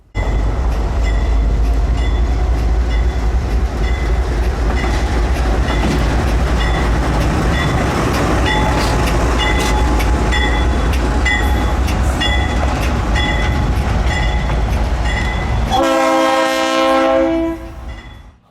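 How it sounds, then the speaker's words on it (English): A Dash 8 diesel locomotive reverses past stored NREX locomotives at a train day event, its loud rumble and steady wheel clatter sustained throughout, ending with a burst of horn-like tones before fading. "And also another one of the Dash 8 reversing past the stored NREX power."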